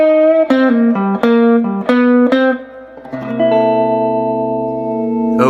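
Electric guitar plays a blues lick: a run of bent, sustained single notes with plucked attacks, settling into a held chord, clean and close with light reverb.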